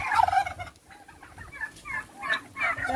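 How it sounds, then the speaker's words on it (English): Turkeys at a farm pen in Dahab gobble in quick, bubbling bursts, one loud call up close and then several more further off, with no talk. "this is where the turkeys live"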